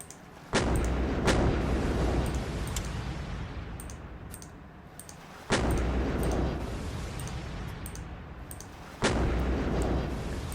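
Naval guns from warships boom in a video game bombardment of coastal enemy gun emplacements during an invasion of Australia, three heavy blasts spaced a few seconds apart, each followed by a long rumbling decay.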